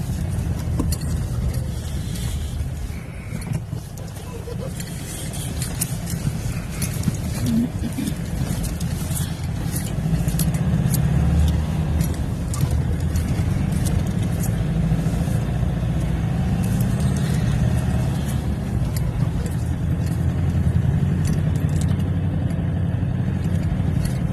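A car drives along a mountain road toward Gurudongmar just beyond Lachen, its engine and road rumble a steady, loud drone throughout with rattles and wind noise.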